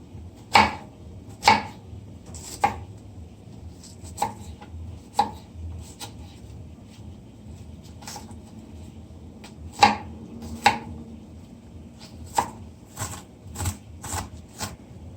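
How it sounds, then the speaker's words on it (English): A knife chops onion on a cutting board in sharp, irregular taps spaced a second or two apart, close and clear over a quiet room. "So let me finish cutting the onion."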